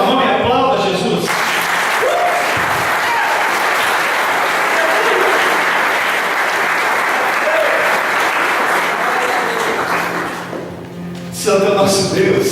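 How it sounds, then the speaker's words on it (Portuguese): Worship congregation applauding Jesus during a church service: loud, dense crowd clapping sustained for about nine seconds, with a preacher speaking briefly before and after it. "Erga a tua mão e aplauda Jesus."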